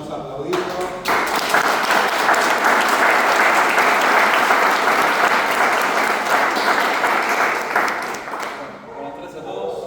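Loud audience applause greets a presenter at a tech expo talk. The hall fills with dense clapping for about eight seconds, then it tapers off as it ends.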